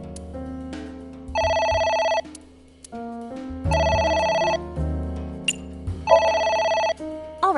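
An electronic telephone ring repeats in three bursts, each a rapid warbling trill, alternating with low musical tones and background sounds between rings.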